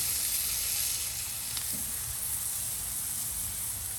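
Smash burgers sizzling loudly on a hot griddle, a dense, continuous hiss with a brief scrape of a metal spatula partway through, close and steady.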